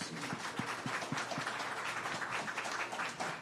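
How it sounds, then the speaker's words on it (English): An audience at an economic empowerment breakfast gives a round of applause for an arriving guest congressman, a dense, sustained wash of many hands clapping at once, with a few sharper claps standing out near the start. "Let's give him a round of applause"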